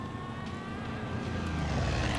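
A propeller airplane drones steadily in Far Cry 5, building slightly louder over a couple of seconds and heard alone at moderate distance.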